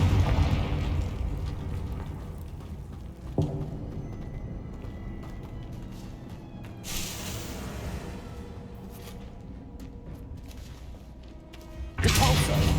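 A Confringo spell explosion in Hogwarts Legacy bursts as a sharp thump followed by a fading rumble, amid game combat noise, with another bright crackling blast arriving near the end.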